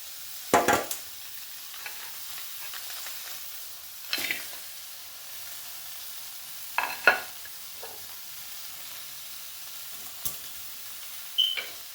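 Sliced vegetables for avial tumble into an uruli pot with a few brief scrapes and clatters, spaced out over a faint, steady background hiss.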